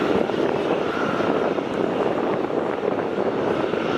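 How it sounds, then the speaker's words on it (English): Boeing 787 jet engines starting up at Melbourne Airport, heard up close as a loud, steady roar with a broad rushing hiss that holds level throughout, with no voices. "You can hear the loud engines of the 787 starting up."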